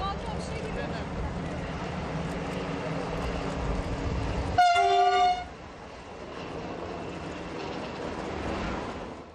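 A high-speed train arrives before a waiting crowd, its loud horn blasting once with bright harmonic tones over steady rumble and crowd noise, then the rolling rumble continues at a lower level.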